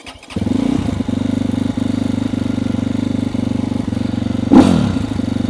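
A Trailmaster TM 38E motorcycle engine cranks and catches, then settles into a close, steady, rapid chugging idle with a brief louder burst near the end.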